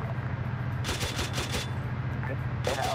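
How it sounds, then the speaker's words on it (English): Bursts of tank gunfire firing canister rounds in a combat video game, two dense broadband blasts with a steady low engine rumble running underneath throughout. "He's firing canister rounds at him."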